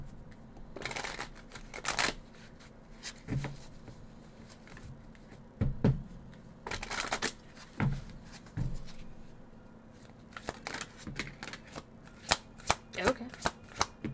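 Witching Hour Oracle cards being shuffled by hand, with repeated crisp riffling bursts separated by pauses, close and moderately loud, and a voice talking softly between them.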